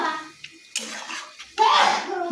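Water splashes into a pan of prawn and elephant-foot-yam curry after the spices are fried, a brief loud pour near the end following quieter kitchen clatter.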